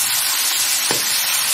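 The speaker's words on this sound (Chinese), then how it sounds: "锅里边加入食用油，油热以后下入我们的五花肉片，先翻炒出五花肉片里边多余的油脂" Pork belly slices stir-frying in hot cooking oil in a wok, with a loud, steady sizzle and a brief scrape of stirring partway through.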